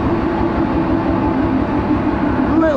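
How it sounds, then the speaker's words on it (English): A steam train runs at Da Lat, Vietnam, its loud steady rumble and rolling drone continuous throughout, close by, with a faint rising squeal near the end. "The train's already up and running."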